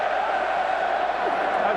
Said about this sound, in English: Oh, the crowd is super into this game.